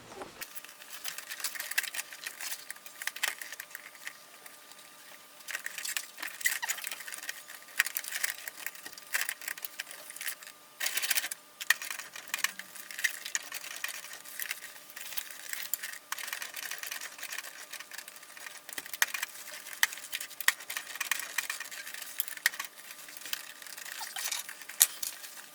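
A sewing machine stitching leather bag straps runs as a steady, close, rapid mechanical chatter, with a brief pause partway through and no talking over it.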